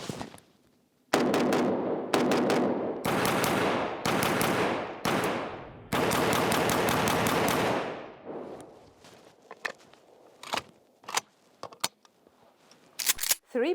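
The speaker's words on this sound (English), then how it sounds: "And now I propose to shoot." Rifle fitted with a Vzor-1 red dot sight firing several sustained bursts of loud, close gunfire over the first eight seconds, followed by scattered sharp clicks and handling knocks.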